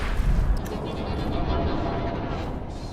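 A firing squad's rifle volley rings out in the Dishonored video game, a heavy boom at the start that decays into a rumbling, echoing tail over several seconds.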